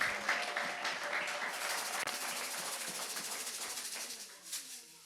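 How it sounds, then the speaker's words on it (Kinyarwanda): Church congregation applauding during a sermon, a dense, even patter of many hands clapping steadily before tapering off at the end, heard alone. "Ariko mwakomeye Imana amashyi"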